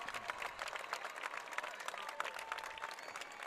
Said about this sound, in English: Now, a lot of applause, a lot of cheers from both sides.